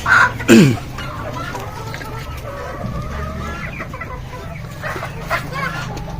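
Desi chickens on a village poultry farm, with loud close clucks and squawks at the start, then softer steady clucking and farmyard ambience, a voice faintly in the background.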